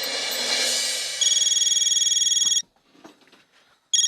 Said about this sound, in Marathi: मैं गणपत भाऊ को फोन करके यहाँ बुला लेती हूँ